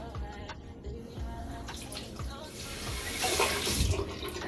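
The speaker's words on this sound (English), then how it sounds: "so now I'm going to go ahead and rinse this off" Water runs steadily into a bathroom sink while a face is rinsed, a continuous splashing wash with small hand splashes, close and moderately quiet, growing slightly fuller toward the end.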